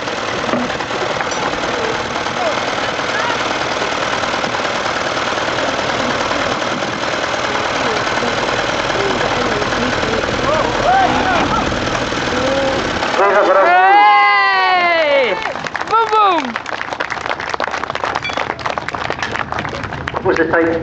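A vintage Ferguson tractor engine runs with a steady, loud knocking chug, and excited voices briefly rise over it partway through.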